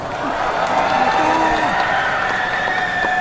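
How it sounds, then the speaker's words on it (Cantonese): Audience applause and cheering welcome a singer onto the stage at a top-ten meet-and-greet for a middle-aged singing contest held at a shopping mall. The clapping is dense and steady throughout, with scattered whoops in the crowd. "以熱烈嘅掌聲歡迎第1位師姐朋友上台"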